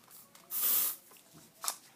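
A short, loud hissing burst of Axe aerosol body spray lasting about half a second, followed by a brief softer puff, in an otherwise quiet room.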